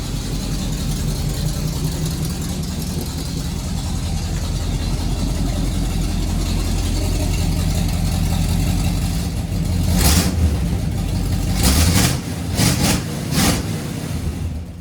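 A Chevrolet K10 pickup's 6.2 diesel engine, restarted after sitting 16 years and running without a radiator, idles loud and close with a steady low rumble, then gives several short revs near the end.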